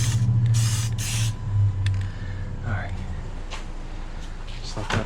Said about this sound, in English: We just need to spray on here and clean it.